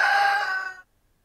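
A single rooster crows once, loud and close, a drawn-out call that stops abruptly and leaves near silence.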